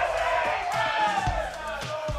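Arcade tournament crowd at a Street Fighter 6 release event in Akihabara roaring and cheering in a dense, sustained wash of voices, with a few sharper shouts and whoops rising out of it.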